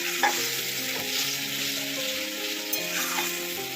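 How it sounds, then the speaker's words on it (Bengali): Poppy seed paste stirred and fried in a pan for a Bengali okra and potato curry, with a steady close sizzle and repeated scraping strokes of the spatula throughout, no talking. "ভালো করে কষতে হবে যাতে পোস্ত কাঁচা ভাবটা চলে যায়"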